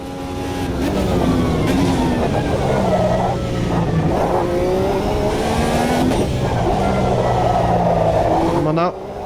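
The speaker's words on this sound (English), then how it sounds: "it feels like the engine is very slow revving." Race car engine in the sim racing game Automobilista 2, revving up through slow-building RPM with rising and falling harmonic sweeps, loud and continuous throughout, briefly dipping at gear changes.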